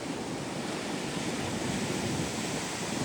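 Large sea waves breaking on a rocky Kathiyawad shore near a cave, a continuous loud roaring wash of surf with wind noise and no voices.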